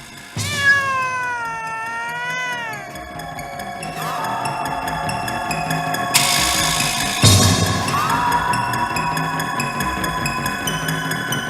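A black cat yowls in long, wavering, rising and falling meows, fairly loud and close, with several drawn-out cries layered over a sustained eerie tone for a spooky audiobook sound effect.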